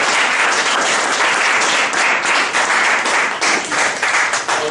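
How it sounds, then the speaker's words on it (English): Meeting audience at a Toastmasters club session giving a round of applause: loud, dense, continuous clapping from many hands, close and unbroken. "give yourself a round of applause"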